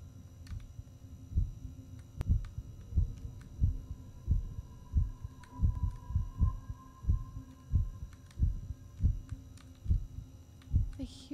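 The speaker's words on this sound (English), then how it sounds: "Hear a heartbeat, but like, I can't tell if it's getting louder." Steady heartbeat in the Backrooms horror game, soft low double thumps pulsing about once per second under a faint electrical hum, with a few scattered clicks and a thin sustained tone partway through.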